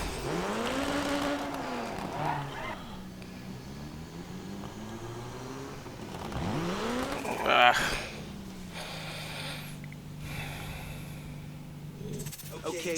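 A rally car's handbrake skid in the DiRT 3 video game, with the engine droning and sweeping in pitch and a brief scrabbling tire slide midway, heard under steady game noise.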